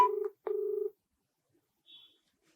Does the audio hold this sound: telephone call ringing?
yes